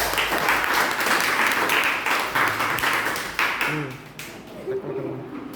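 A class of students in a biology lesson claps together, a brisk burst of many hands that tapers off after a few seconds, followed by a voice speaking briefly as the room quiets.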